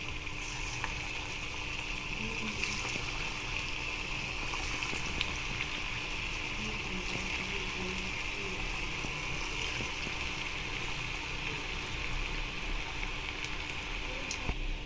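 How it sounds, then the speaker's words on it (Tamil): Bondas deep-frying in hot oil, a steady low bubbling and hiss running continuously and fairly faint throughout, with no talk over it. "இப்போ நம்ம ஒவ்வொன்றா போட்டு பொரிச்சு எடுத்துடலாம்"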